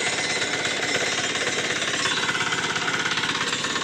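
A power tiller engine runs steadily at a strong, even rumble with a rapid chugging pulse while ploughing grass in a village field, loud and close throughout with no talk.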